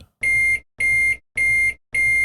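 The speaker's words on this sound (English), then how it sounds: "maybe we just loop this beep" Four identical high-pitched beeps repeat in a steady loop, each lasting about a third of a second with brief silences between, loud and close.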